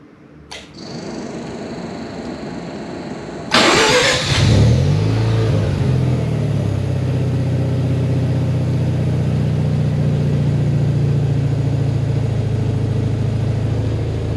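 Mazda RX7 FC3S rotary engine cranking and firing via Compustar remote start: a click, a brief starter whir, then the engine catches with a loud burst and settles into a steady close idle.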